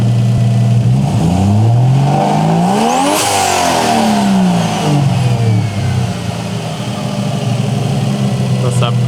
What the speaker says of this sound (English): That's that proper 1JZ sounds.